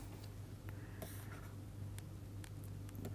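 Pen or marker writing during a probability lecture, with steady scratchy strokes and short taps repeating across the clip, faint under a constant low hum of room noise.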